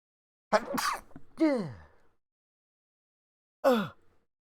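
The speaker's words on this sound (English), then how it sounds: "I have to sneeze." A person sneezes during a gaming session, with a gasping build-up, a sharp sneeze, then one more short breathy burst after a pause; close and fairly loud against silence.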